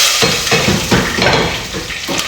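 Onion frying in a pot for a one-pot African dish, a loud, close, steady sizzle with rhythmic stirring scrapes and faint utensil clinks.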